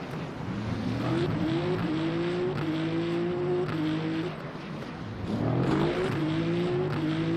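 A hypercar engine in the racing sim Le Mans Ultimate drones loudly and continuously, its pitch climbing in repeated revving sweeps through the gears, with a brief dip before surging again.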